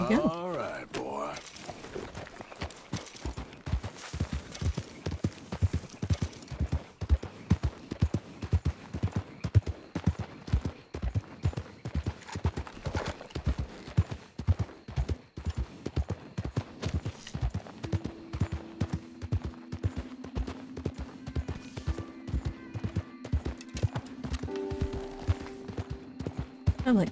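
A horse's hooves clip-clop in Red Dead Redemption 2, a steady, close rhythmic trot of sharp hoof strikes, with someone talking over it and a brief tonal game sound near the end.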